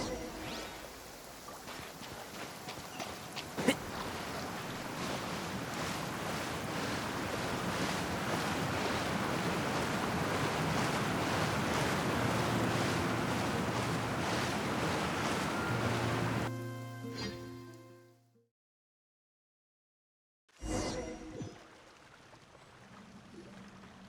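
Massive whirlpool in Genshin Impact: loud, continuous rushing water and surf-like roar that holds for about seventeen seconds, cuts to silence, then returns with a sudden splash and quieter churning water.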